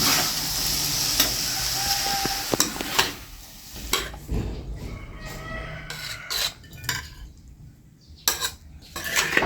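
Metal utensils scrape and clink against a pan as stir-fried chicken giblets with ginger are scooped out, with a faint sizzle underneath and a few sharp knocks.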